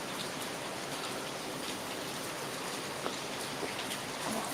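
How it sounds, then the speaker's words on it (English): Heavy rain pouring down outside, heard through open doors as a steady, dense wash of hiss with a few sharper drops and splashes, continuous and fairly loud. "it is pouring down rain out there"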